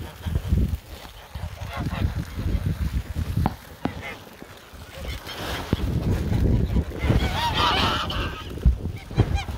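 Domestic geese honk repeatedly in a garden, loud nasal calls coming in irregular bursts throughout, with a person's voice mixed in among them.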